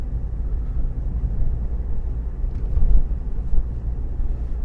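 A car rolls at about 30 mph through a village with tight bends, a steady low engine and road rumble throughout with a slight swell near the middle, no voices.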